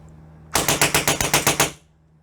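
An airsoft gun fires a quick burst of about nine BB shots in an even rapid rhythm, close and loud, then stops, with a low steady hum underneath.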